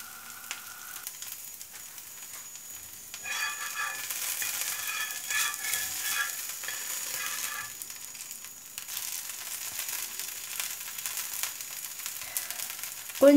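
Bottle gourd dosa made from a vegetable and rice batter sizzles steadily on a hot pan, a soft continuous crackle that grows denser and louder partway through and then holds, with no voices.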